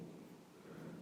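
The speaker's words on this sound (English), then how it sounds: "You can hear that thunder in the background." Distant thunder from a storm, a low continuous rumble with faint rain-like hiss, quiet and steady in the background without any voices.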